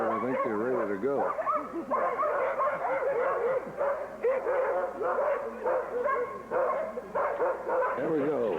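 Excited sled dogs in Alaska bark, yip and whine together in a dense, continuous chorus, loud and close, while being harnessed and ready to run.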